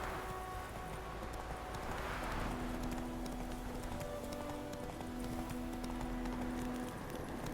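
Steady rhythmic clip-clop of the horse Roach galloping in The Witcher 3 Wild Hunt Complete Edition on Nintendo Switch, hooves drumming evenly under a soft wash of ambient sound with faint tonal music.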